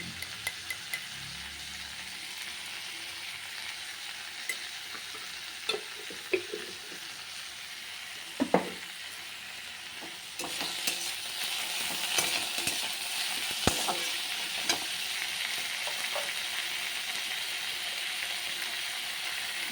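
Pointed gourd and potato peels stir-fry in a pan with a steady, soft sizzle, broken by a few sharp clicks of stirring. The frying grows slightly louder and denser partway through.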